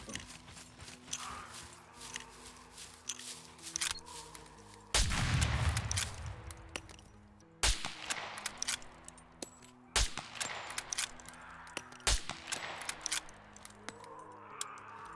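Scattered gunshots in SCUM, several sharp loud cracks spaced a few seconds apart, with clicks and handling noises between them and a heavier burst near the middle; no talking.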